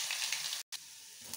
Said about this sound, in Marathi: तेल टाकू, मोहरी चांगली तळली तर टाकू जिरं, लसूण टाकू